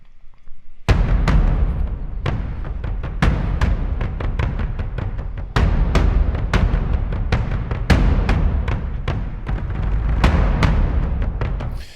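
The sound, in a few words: epic percussion hits from the Spitfire Hans Zimmer Percussion library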